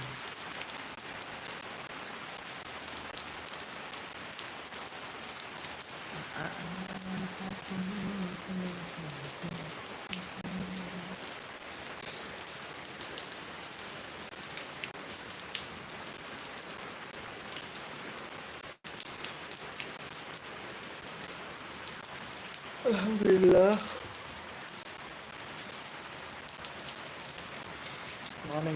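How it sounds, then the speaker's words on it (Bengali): Steady rain falls across the whole stretch in Shariatpur, a dense even hiss throughout, with a brief spoken word near the end and faint low murmurs midway. "বৃষ্টি হচ্ছে আমার কাছে অনেক ভাল লাগতেছে"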